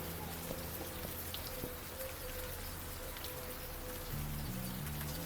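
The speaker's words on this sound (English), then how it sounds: "Because the rain was a little bit overpowering." Rain in the video game Old Skies, a steady hiss of drops pattering on surfaces that goes on throughout, with faint low tones underneath and no voices.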